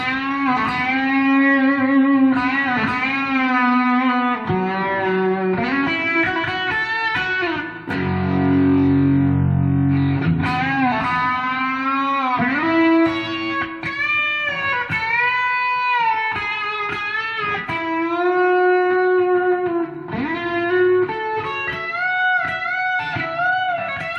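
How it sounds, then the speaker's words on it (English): Electric guitar played through a Fender Deluxe Reverb amp voicing with thick fuzz distortion, sustained notes and bends with a lower chugging passage, loud and upfront. "we've got a deluxe reverb with a fuzz this time"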